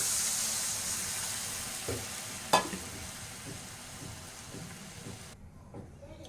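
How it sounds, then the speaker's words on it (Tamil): Tamarind water hisses and sizzles steadily in a hot pan of frying spices for a pirandai kuzhambu, with a few stirring knocks, until the sizzle cuts off abruptly near the end. "இப்போ வதங்கிச்சிங்களா, இந்த கரைச்சி வச்ச புளியை ஊற்றிடலாம்."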